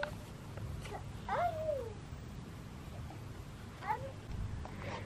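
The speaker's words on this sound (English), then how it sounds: "Look at the kitty." Two short cat meows, one around the middle and a softer one near the end, heard close over a low background rumble.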